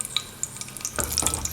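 Cashews dropping into hot oil in a pan, a brief loud burst of sizzling and crackling that swells after a moment, close and alone, made while cooking a sweet banana pudding.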